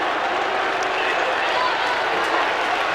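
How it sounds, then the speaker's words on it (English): A football crowd at a 1991 AFL match between Richmond and Collingwood rises and applauds its captain, dense steady clapping and cheering that fills the whole stretch. "The crowd rises in unison to clap their skipper, Dale Waitman"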